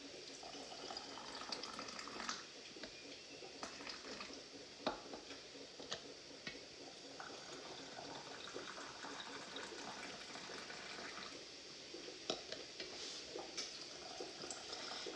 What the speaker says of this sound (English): I'm just going to fill each of these jars up to the 1 inch line